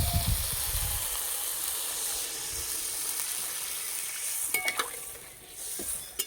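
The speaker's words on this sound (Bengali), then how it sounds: "মশলার সঙ্গে ডাল কিছুক্ষণ ভেজে নিয়েছি, এবার জল দেব।" Red lentils fry with spices in a pan in a village kitchen, giving a steady sizzling hiss, then water goes in and brings a few louder splashy crackles and clinks near the end, with no talk.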